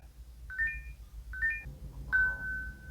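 Alarm tone from a smart alarm phone app: two short rising two-note chimes followed by a longer sustained electronic tone, clear and fairly near over a low background hum.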